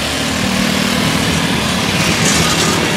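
A scooter engine drones loud and steady up close while riding through streets in Taiwan, a continuous buzzing whine with wind rush and no pauses or voices.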